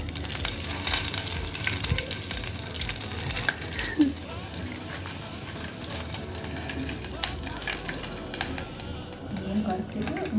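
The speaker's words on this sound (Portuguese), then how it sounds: "Ó a invenção, fritando a coxinha" Coxinha frying in oil over an outdoor campfire on a cold morning, a dense continuous sizzle and crackle filling the whole stretch, loud and close, with people talking over it.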